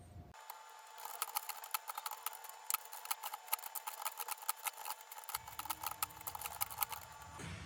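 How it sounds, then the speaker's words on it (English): Keys clatter in a steady, fast stream of light clicks on a KB-117 Wired Classic wired keyboard during a typing test, quiet and close, with no talking. "so now we're gonna do a little typing test"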